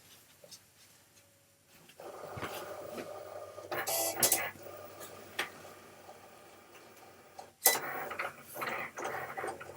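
A vinyl cutting machine cuts letters, starting up after a quiet moment into a soft mechanical whir with brief clicking and scraping passes of the blade carriage.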